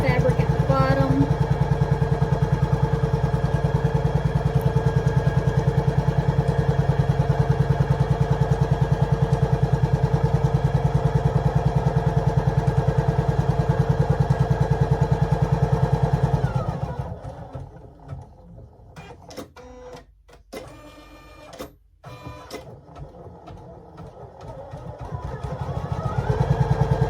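Embroidery machine stitching a Valentine's side split bow design: a steady, droning mechanical hum with a rapid pulsing rhythm runs for about seventeen seconds, then cuts out to near quiet with a few scattered clicks before a low hum returns.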